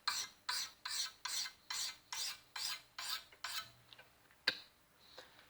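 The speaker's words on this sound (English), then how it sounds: "I won't bore you guys for too long watching me sharpen a blade" Steady strokes of a hand-forged knife blade being sharpened, about nine even rasping passes in a regular rhythm, close and fairly loud, then a few lighter, scattered strokes.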